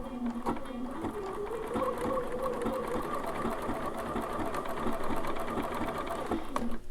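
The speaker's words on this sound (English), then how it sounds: "we're going to be doing a triple straight stitch, and we want to get that triple straight stitch directly down in the center" A Bernina sewing machine with a tailor tack foot runs a steady triple straight stitch, its motor whirring continuously at an even, close pace with light mechanical ticking throughout.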